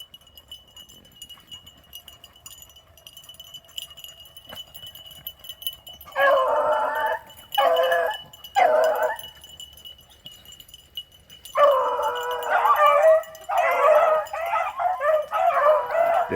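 Hounds bay and bark in bursts while chasing a buck rabbit outdoors, several loud yelping volleys separated by pauses over a faint steady hum, the barking growing more continuous toward the end.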